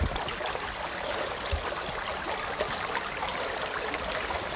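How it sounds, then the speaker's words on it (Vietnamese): A mountain stream rushing steadily over rocks in a forest, a constant broadband flowing sound, fairly quiet and uninterrupted with no voices. "Mà dưới đây là cái suối."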